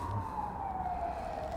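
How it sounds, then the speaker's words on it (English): An emergency vehicle siren wails far off in the city below Gellért Hill in Budapest, a single steady tone slowly sliding downward over a low urban hum. "down in the city there with sirens and all sorts of things."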